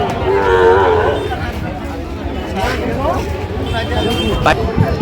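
Sahiwal cattle at a livestock market give a loud, drawn-out moo early on, followed by further lowing amid a steady crowd babble of voices and market noise.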